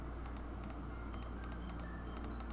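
Quiet, crisp keystrokes on a computer keyboard come in short clustered bursts, typing a number into an image-editing program over a faint steady hum.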